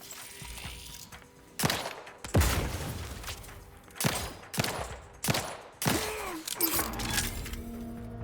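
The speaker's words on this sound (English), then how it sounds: "Explosion imminent!" Explosions and gunfire from The Outer Worlds 2 video game: several sharp, loud blasts in quick succession, each with a short rumbling decay, over a faint background hum.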